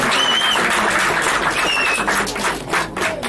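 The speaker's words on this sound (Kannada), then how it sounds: "ಜೋರು ಚಪ್ಪಾಳೆಯ ಮೂಲಕ ಇದನ್ನು ಸ್ವಾಗತಿಸಬೇಕು" An audience claps loudly and steadily for the whole stretch, a dense, continuous wash of applause at a film title launch event where twelve new films are being announced.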